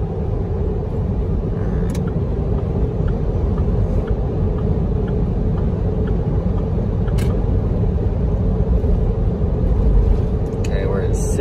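A Hummer H3 drives at about 50 mph under throttle, a loud, steady, low engine and road rumble heard from inside the cabin, continuous throughout.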